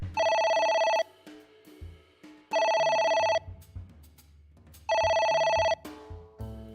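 A ringing telephone in the game AI: The Somnium Files gives three loud, even bursts of about a second each, spaced by pauses, over low background music.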